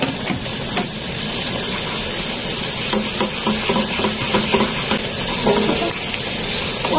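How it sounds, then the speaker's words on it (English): Garlic frying in a pan of oil for spaghetti aglio e olio, giving a loud, dense, continuous sizzle with scattered pops and crackles all the way through. "So we will fry the garlic."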